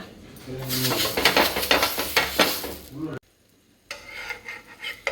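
Tomato dosa lifted off a hot pan: a spatula scrapes and rustles with faint sizzling for about three seconds, then a brief near-silence before soft clinks and light kitchen handling resume.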